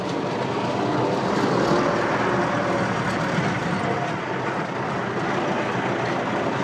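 Belarus tractor engine driving in ninth gear, a loud, constant droning roar heard from inside the cab, steady and unbroken with no talk over it.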